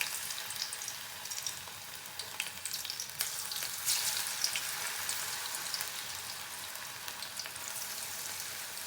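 Cauliflower (gobi) frying in hot oil gives a steady, dense sizzle with a bright crackling hiss that holds evenly throughout, close and fairly loud with no voices.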